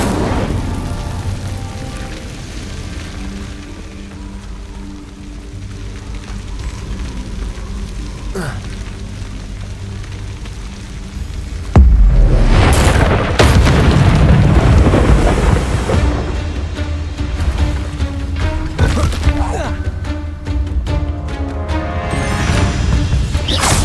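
Incendio fire spell cast in the video game Hogwarts Legacy: a low ambient rumble gives way to a sudden loud crashing burst, followed by sustained roaring, crackling fire and scattered impacts.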